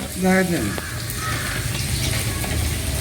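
Vada batter frying in hot oil at a busy hotel kitchen in Parassala gives a steady, broad sizzle. A brief tonal squeal sounds near the start, with faint voices in the background.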